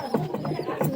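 Pet pigeons coo close by, several soft rhythmic throaty calls in quick succession.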